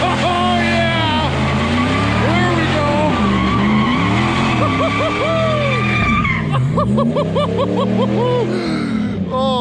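A car does a burnout, its engine revving hard and wavering while the tires squeal loudly and continuously, close by, with shouted voices briefly heard under the noise.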